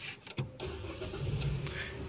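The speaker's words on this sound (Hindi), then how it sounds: "तो सबसे पहले हम गाड़ी स्टार्ट कर लेते हैं।" A Nissan Magnite car engine cranks and catches after a brief click, then settles into a steady idle close by, with no talk over it.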